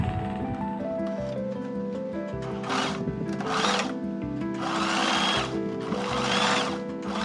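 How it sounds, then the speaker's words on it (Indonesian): A sewing machine stitches the shoulder seam of a traditional Kadazandusun garment, running steadily for several seconds with a continuous mechanical whir that surges in short bursts, close and alone with no voices. "Sekarang kita akan jahit"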